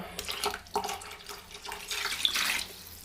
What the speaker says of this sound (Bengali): তো 2 বাটি চাল নিয়েছিলাম, দিয়ে দেব 4 বাটি জল।